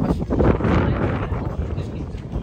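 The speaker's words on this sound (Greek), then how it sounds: "Εδώ πέρα πάντα φυσάει" Wind blows hard across the microphone on Naxos, a Cycladic island, a loud continuous rushing buffet that swells and eases, with a voice faintly mixed in.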